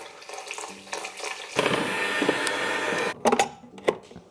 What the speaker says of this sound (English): you add sparkling water into the batter